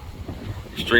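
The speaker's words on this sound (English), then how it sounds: "Sorry for the wind." Steady rumbling wind buffeting a microphone on a beach in the Philippines, a continuous low roar with a brief louder gust near the end.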